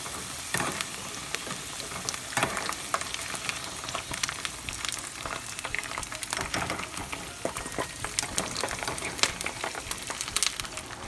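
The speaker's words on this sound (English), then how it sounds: "the potatoes are frying up nicely" Potatoes for Cuban picadillo with ground turkey sizzle and crackle steadily in a hot pan, a continuous close-up frying hiss with scattered pops.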